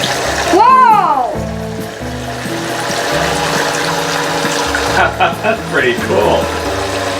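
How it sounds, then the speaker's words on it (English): Battery-powered faucet on a toy kitchen sink pumps a thin stream of water, running steadily beneath a child's and an adult's chatter throughout. "You put the batteries in the faucet. It's like an electric faucet"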